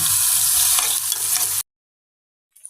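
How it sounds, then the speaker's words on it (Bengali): Onions sizzling in a hot pan for a rohu fish roe and potato bhuna, a dense steady frying hiss that cuts off abruptly into silence before a faint return at the end. "পেঁয়াজটা ভেজে নিচ্ছি আগে"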